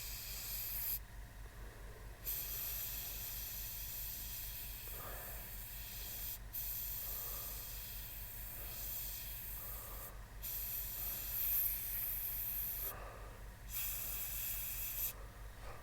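An airbrush run by an Mjr Hobby compressor sprays panel lines on a model: a steady close hiss with a faint pulsing hum beneath, cut by a few short breaks in the airflow.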